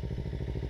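A motorbike engine revs as a learner rider is urged to give it more throttle, a close, throbbing pulsing rumble with a rapid regular beat held steady for under a second.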